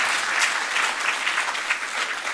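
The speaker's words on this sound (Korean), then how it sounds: "박수 한번 쳐줘, 박수" A church congregation claps together in steady, dense applause, moderately close and unbroken throughout.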